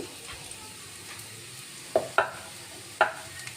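Onions fry in a pan with a soft, steady sizzle, punctuated by three sharp clacks of a utensil stirring against the pan near the end.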